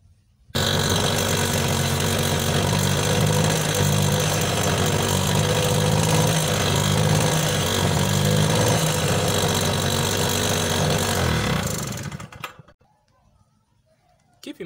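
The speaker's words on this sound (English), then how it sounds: "The engine will be sounding low and weak." A small Tiger two-stroke generator engine runs weak and low, in need of servicing because of a clogged hot-gas channel, droning loud and steady up close for about twelve seconds before cutting off abruptly into near silence.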